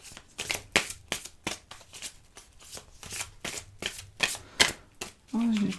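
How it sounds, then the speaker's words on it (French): A deck of cards is shuffled and drawn for a card reading, with brisk, rhythmic riffling and slapping strokes repeating close-up throughout and a brief voice at the very end. "On va tirer juste une petite carte"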